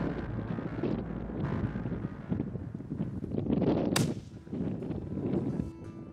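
Rifle shots fired at a caribou bull on open, windy tundra, one sharp crack standing out near the middle over constant heavy wind buffeting the microphone.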